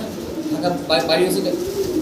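Fancy pigeons give a few soft coos close by, brief and low under a voice talking over them.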